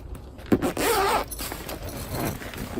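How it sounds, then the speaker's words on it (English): A sturdy zipper on a Louët Victoria spinning-wheel bag is pulled in one long, steady close-range run, followed by softer handling rustle. "Very sturdy zippers"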